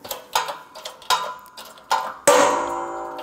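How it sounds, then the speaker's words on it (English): Wheel hub on a 2012-2020 Ford Focus pressed out of the steering knuckle, a few sharp metallic ticks and clanks building to a final louder crack with ringing tail. "let's apply some pressure and the hub should come out through the bottom"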